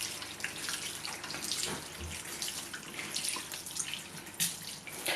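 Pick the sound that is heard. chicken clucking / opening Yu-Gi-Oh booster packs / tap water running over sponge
tap water running over sponge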